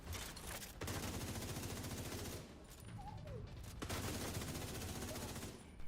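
Rapid automatic gunfire in The Division 2, a dense sustained burst from an emptied magazine, briefly broken by a short pause and a faint reload noise before the firing resumes.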